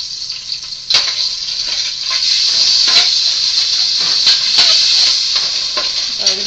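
Spices sizzle loudly in a hot pan for aloo gobi, a steady bright frying hiss running throughout with occasional stirring clicks and scrapes.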